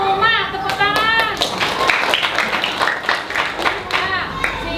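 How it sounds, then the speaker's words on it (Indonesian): Schoolchildren in a fourth-grade elementary classroom clap together in a loud, rhythmic burst while young voices chatter and call out over the claps. "Tepuk tangan."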